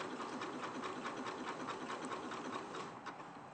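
A sewing machine stitches a repeated semicircle satin stitch pattern, humming with a fast, even rhythmic clatter that eases slightly toward the end.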